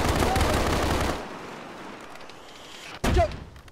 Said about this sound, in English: Stop shooting me and my friend!